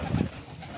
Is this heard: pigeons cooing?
yes